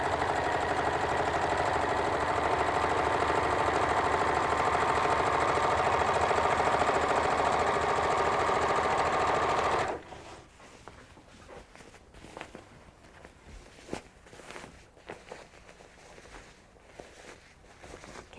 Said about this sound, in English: stitch it on the sewing machine, leaving about an 8-inch opening